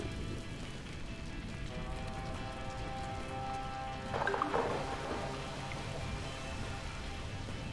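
Steady rain falls in the god-game The Universim, a constant hiss of drops on surfaces with a brief, slightly louder splashy patch midway; no one speaks.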